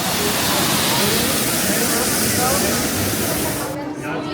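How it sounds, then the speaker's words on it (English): Waterfall along the rock work of a theme park queue line, a loud continuous rushing roar of falling water that fills the scene and eases off near the end. "All the rock work, waterfalls, and some awesome views of the coaster."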